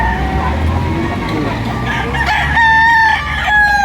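A rooster crows loudly and close by at a chicken market in Batangas, with a drawn-out, wavering crow in the second half over a steady din of other fowl and crowd noise.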